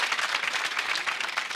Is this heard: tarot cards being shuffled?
no